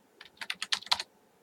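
Typing on a computer keyboard, around eight crisp close keystrokes in a fast irregular burst lasting under a second, with quiet before and after.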